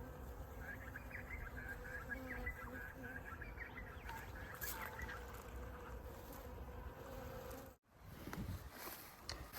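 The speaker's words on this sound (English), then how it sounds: "It also has a whole bunch of very excited bees." A faint, steady bee buzz hums around a flowering grevillea in a spring garden, mixed with distant bird chirps and soft outdoor background noise.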